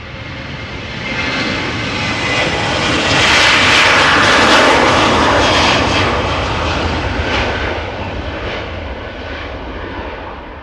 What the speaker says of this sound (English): So this is a Boeing 737-900 from KLM flight 1009 outbound to London Heathrow.